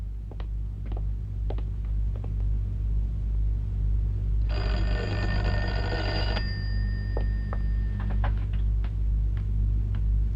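A telephone rings indoors in an Indonesian drama film, one loud, bright ring lasting about two seconds over a steady low hum, followed by faint ticking.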